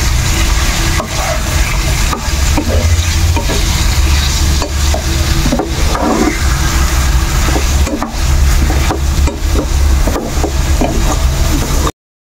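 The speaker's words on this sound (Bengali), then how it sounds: "দিয়ে এবার এই চিকেনটাকে আমি কিছুক্ষণ নেড়ে নেব" Chicken fries in oil in a pan while being stirred, a loud close sizzle broken by repeated scraping and clanking strokes of a spoon against the pan.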